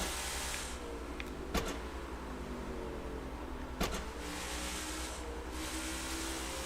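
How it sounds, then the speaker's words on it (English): Race car in NASCAR 22 at Martinsville drones with a steady engine roar, broken by two sharp, loud gear-shift clicks a couple of seconds apart; no voices. "I don't know why the shifting's so loud in this game"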